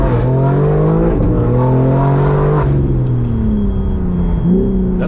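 A straight-piped BMW G82 M4 engine revs loudly and close, a deep harmonic rumble climbing and falling, then settling into a lower idle before a brief blip near the end.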